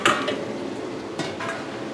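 Scallions are stirred into a large batch of sweet-and-sour fish stir-fry in a wok, with a spatula scraping and clattering against the metal over a soft steady sizzle, one sharper clank near the start and no talking.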